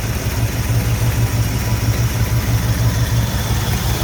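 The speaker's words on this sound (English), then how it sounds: "Got almost 18 inches at idle. That should be a pretty healthy motor." A 1978 Ford F150 engine idling, a steady, loud, close rumble with a regular low throb and no voices over it.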